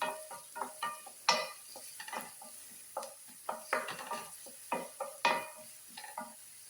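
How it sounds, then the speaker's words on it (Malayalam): A spoon stirs green peas egg masala in a pan with a quick run of soft scrapes and clacks in an uneven rhythm, close and fairly quiet, with a light sizzle beneath. "ഇനി ഇതൊന്ന് മൊത്തത്തിൽ തന്നെ മിക്സ് ചെയ്തെടുക്കാം."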